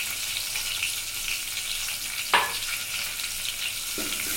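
Garlic and asafoetida tempering sizzles in hot oil in a pan for alu chi patal bhaji. It is a steady, close frying hiss, with a short clatter of a utensil partway through and a softer knock near the end.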